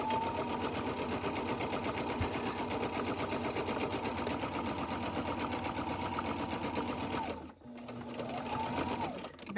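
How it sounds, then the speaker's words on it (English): A sewing machine runs a straight stitch along the top edge of a lined fabric face mask with a pocket, a steady close whirring hum that stops briefly near the end and then restarts. "I'm going to just sew along this top here."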